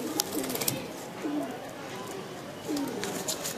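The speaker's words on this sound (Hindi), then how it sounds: "ये सियालकोटी कबूतर ही है" A Sialkoti breeder pigeon coos nearby, giving several soft, rolling, repeated coos over a steady hum, with a voice talking faintly underneath.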